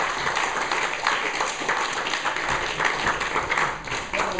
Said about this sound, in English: give Mark a big round of applause